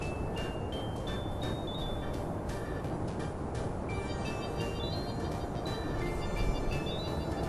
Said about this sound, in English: It's like, oh, there goes another train.